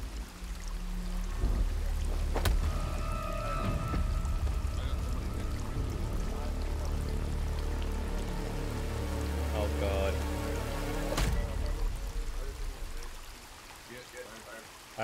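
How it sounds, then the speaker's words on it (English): Flowing, splashing water in the survival game Sons of the Forest, a steady loud wash running throughout beneath game effects and talking voices. "Oh, I hear water."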